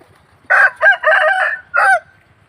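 A rooster crows loudly and close by, one drawn-out crow in several bursts, over a quiet background.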